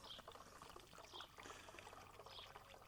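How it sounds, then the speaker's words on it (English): Water is poured into a dilution bottle already holding 100 ml of car-care product, topping it up toward 900 ml. The trickle is faint and steady, heard close up and alone. "Now I'm going to top this up with water."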